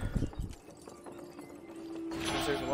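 Horse hooves clip-clop in the video game Red Dead Redemption 2 online, a few quick knocking steps at the start, then a faint tonal hum and rising noise; a voice speaks in the background.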